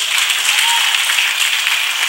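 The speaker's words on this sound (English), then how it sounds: "Clap for Master Jesus." A church audience claps for Jesus, a bright continuous patter of many hands, loud and close, steady for the whole short stretch with no voices standing out.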